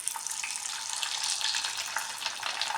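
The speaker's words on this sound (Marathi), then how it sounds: "अजून 1-2 पापड्या मी तुम्हाला तळून दाखवते" Sabudana papad, a fasting-style sago wafer made without soaking the sago, frying in hot oil, giving a steady, close, bright crackling sizzle that holds evenly throughout with no talking.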